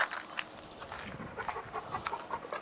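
Rapid, breathy dog panting at a stray-dog shelter in Kant, close and steady across the whole stretch, with faint background clatter and no talk.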